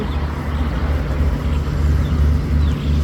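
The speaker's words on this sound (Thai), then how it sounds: "เรือวิ่งมุ่งหน้าไปป่าโมกอ่างทอง" A boat cruising on the Chao Phraya River toward Pa Mok, Ang Thong, gives a steady low engine rumble mixed with water and wind noise, continuous and close.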